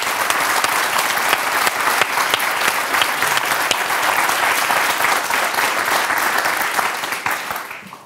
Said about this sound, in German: Ich bitte um einen großen Applaus hier im Publikum